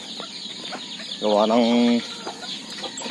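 An Asil native hen with her chicks on a farm gives a loud burst of clucking, with softer peeps and clucks around it and a little talk nearby.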